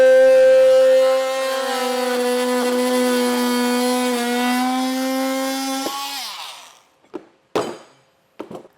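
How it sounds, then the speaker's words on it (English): A multi-tool with an oscillating blade cuts out a plastic template during a 2023 Jeep Wrangler base plate install, giving a loud steady high-pitched buzz for about six seconds, then a few short knocks and scrapes. "I'm using a multi-tool here. It works really well to get those nice clean corners."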